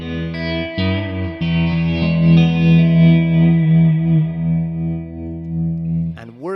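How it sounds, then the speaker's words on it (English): A sustained electric guitar chord rings out, drenched in wobbly, splashy Eventide spring reverb on iPad that hangs and slowly decays before a brief sliding note at the end. "a bit of spring reverb from Eventide"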